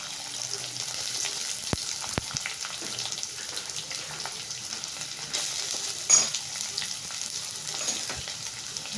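Sliced onions with curry leaves sautéing in a pan for a spinach stir-fry, giving a steady close sizzle with scattered scrapes and stirring knocks throughout and one louder clatter near the end.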